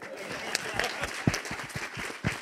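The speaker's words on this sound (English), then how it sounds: "But let us clap for Tyrone." A crowd at a Negro Leagues baseball celebration applauds in a brief burst of scattered clapping that sounds moderately close, with some voices mixed in.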